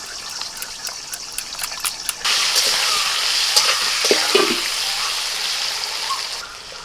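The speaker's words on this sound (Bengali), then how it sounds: "আলুটা ভাজা হচ্ছে" Potatoes fry in a pan with a steady, close hiss that jumps louder about two seconds in and holds as a broad sizzle, with a few scraping touches along the way.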